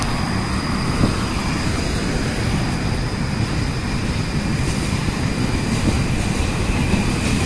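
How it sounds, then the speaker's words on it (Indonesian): A train rumbles past nearby, a steady loud roar of wheels on rails with faint metallic squeal throughout. "Ini ada kereta."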